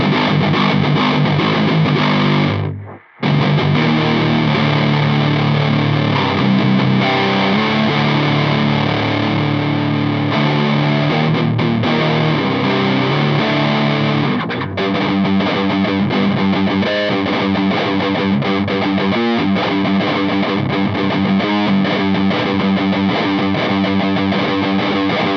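Electric guitar played through a Belcat distortion pedal clone set to half gain, giving a loud, continuous fuzzy tone with sustained chords, a brief dropout early on and no talking.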